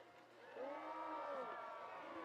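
A crowd cheers and roars at the Kings and Queens of Corbet's ski event at Jackson Hole Mountain Resort as a rider lands the final booter. The cheering swells and holds steady, heard from a distance under a commentator's voice.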